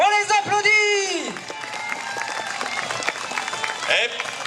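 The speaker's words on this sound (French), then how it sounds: "On les applaudit." Outdoor spectators applauding after a run through a wall of flames at a fire-passage show, scattered clapping and crowd noise following an announcer's voice at the start.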